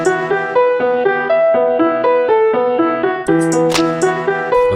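Trap loop sample playing back loud and clear, a melodic phrase of plucked synth-like notes stepping through a short pattern, with a brighter percussive hit near the end.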